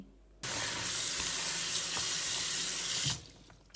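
Hot water poured from a kettle over raw chicken in a sink to loosen the skin, a steady close splashing rush lasting about three seconds before stopping abruptly.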